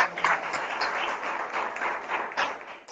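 Congregation clapping at a Hindi church service, a quiet ragged patter of hands from a small group, continuous and somewhat distant.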